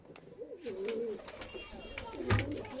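Andhra and red pigeons cooing inside a loft, a rolling low coo repeating over a few seconds, near and moderately loud, with a sharp thump near the end.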